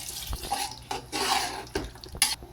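Water is poured into a large pot of mutton biryani with tomatoes, green chilies, mint and coriander, in a few splashing gushes at close range with no talking.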